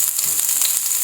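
Crushed ginger, garlic and fennel seeds fry in hot tempering oil for a Kerala-style mushroom thoran, giving a close, steady, bright sizzle with no pauses.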